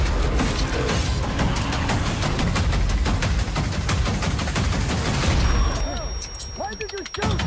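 Video game trailer gunfire, rapid bursts of shots crackling over a dense, loud backdrop of music and effects, thinning out toward the end.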